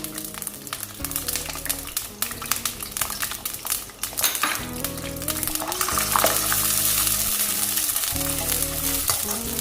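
Finely chopped medium onion frying toward light brown for tandoori-style qeema, a dense continuous sizzle with busy crackle and occasional stirring scrapes, steady and close with a low musical background underneath.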